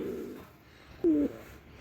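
Pigeon with a cold giving a few low, hoarse throaty coos, a short rough burst near the middle standing out against quiet room noise.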